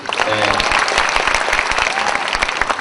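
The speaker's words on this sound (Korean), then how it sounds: "박수 좀 부탁드리겠습니다" A short burst of audience applause at a comedian's talk show event, dense steady clapping throughout, loud and near, with faint voices underneath.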